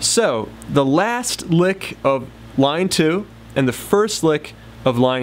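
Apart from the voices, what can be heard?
No distinct noise like a dog, phone or traffic.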